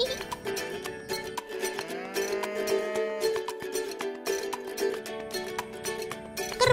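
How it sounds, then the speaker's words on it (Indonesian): Deep lowing calls from a herd of water buffalo being driven to graze overlap with clattering bells and shuffling, the animals close by and fairly loud. "Kerbau-kerbau ini akan digiring menuju tempat mereka mencari makan"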